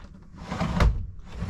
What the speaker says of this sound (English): You got a nice pocket door here.